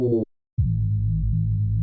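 A thick, sustained FM8 reese bass passed through operator Z's filter hums low and steady, a short note first, then a brief silence, then a longer droning tone with slow throbbing movement.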